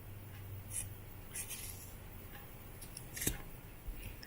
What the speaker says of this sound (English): So now we're going to snip any sharp corners